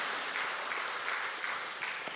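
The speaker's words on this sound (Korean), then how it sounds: "우리 할렐루야 찬양단 박수 한번 더 하시겠습니다." A church congregation at a Sunday worship service applauds the worship choir, a steady, moderately faint patter of many hands clapping without a break.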